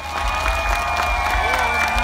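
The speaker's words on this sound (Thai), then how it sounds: "เสียงปรบมือดังๆให้ท่านเจ้าภาพสุดๆท่านเจ้าภาพเลยครับพี่น้องครับ" Crowd at a Thai housewarming celebration with a hired band clapping and cheering loudly for the hosts, continuous dense applause with shouts mixed in, under a steady tonal drone from the band's sound system.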